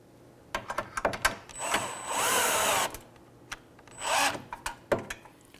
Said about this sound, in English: I like to use my drill here with that key